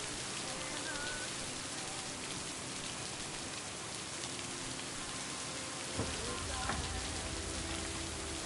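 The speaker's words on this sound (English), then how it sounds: "the leak in your roof that's letting all the rain in" Heavy rain pours in a dense, constant hiss close by, with a deep low thunder rumble rolling in partway through and continuing under the downpour.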